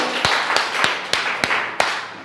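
A handful of sharp, separate claps spaced roughly a third of a second apart at a school result celebration, ringing in a reverberant room rather than full applause.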